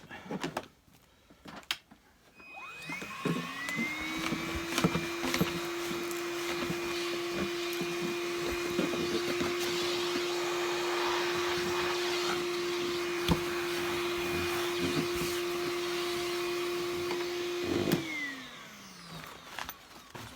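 A Kirby Avalir 2016 vacuum cleaner whines up to full speed, runs with a steady, loud, even drone for about fifteen seconds, then spins down as it is switched off. No one talks.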